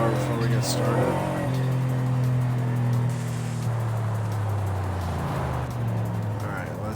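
Racing car in a driving game revving up close, its loud harmonic engine note holding steady, then stepping down in pitch and settling near the end.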